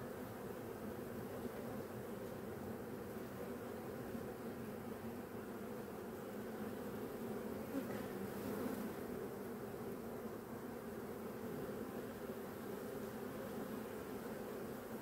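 Honey bees swarm around an open horizontal hive during a queen check after the flowering season, giving a dense, steady buzzing drone that stays close and continuous throughout with no talking.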